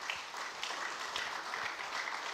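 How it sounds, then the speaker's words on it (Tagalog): A church congregation applauds in a steady, dense wash of clapping lasting a couple of seconds, even and sustained with no talk over it. "isa pang palakpak para sa Diyos"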